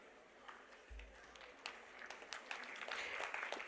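University Day ceremony audience at SVKM's NMIMS bursts into applause, starting faint and swelling into dense, sustained clapping from a large crowd toward the end, heard at a distance in a hall.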